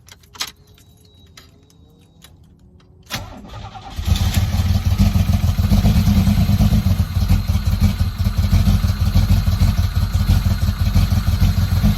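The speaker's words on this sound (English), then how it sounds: "So we just started up the car." A car with a new motor and massive vacuum leaks idling steadily and loudly right after starting, following a few key jingles and light clatter at the beginning.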